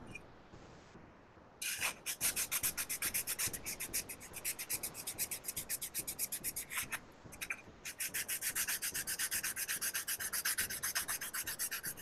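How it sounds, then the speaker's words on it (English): Rough sandpaper rubs back and forth on a workbench part in quick, rhythmic strokes, close and fairly loud, pausing briefly partway through before the scraping resumes. "Clean up that rough ass sandpaper."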